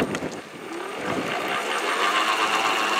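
PowerSmart 80V cordless self-propelled lawn mower with dual blades running its drive at the top speed setting, a steady mid-pitched motor whine that holds even and close throughout.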